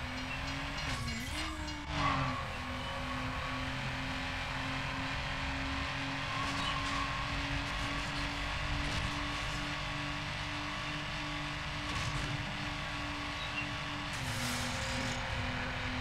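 Engine of a racing car in Need for Speed Underground holds a steady loud drone, with a short pitch swoop near the start and an even tone afterwards, alone without voices.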